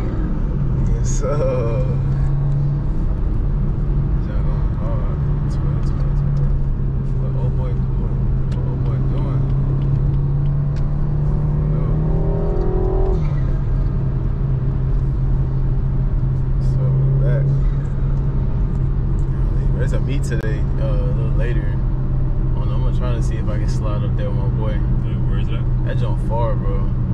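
BMW 430i driving, a steady low engine drone and road rumble from inside the cabin throughout, with people chatting over it.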